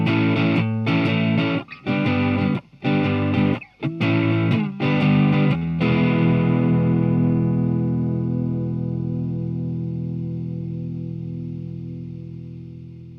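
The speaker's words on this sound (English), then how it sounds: "I'm also going to be using a blues driver pedal, with the level about a quarter of the way up, the tone about 1/3, and the gain about 1/2." Electric guitar played through an amp with a Blues Driver overdrive pedal: several loud, gritty strummed chords with short gaps between them, then a final chord left to ring and slowly fade out over several seconds, no talking.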